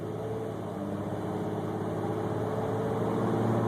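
Toyota Tacoma engine fitted with an AFE cold-air intake, heard from inside the cab as a steady, throaty drone at light throttle that climbs gently in pitch while accelerating, with no one talking.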